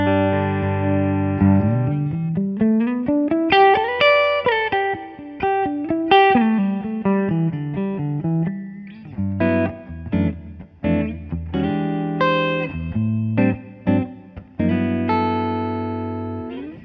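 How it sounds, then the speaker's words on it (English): Clean electric guitar on the neck humbucker of a PRS Custom 24 Piezo plays a melodic run of single notes and chords, warm and round, ringing out steadily with a few short pauses. "So here's the neck position humbucker."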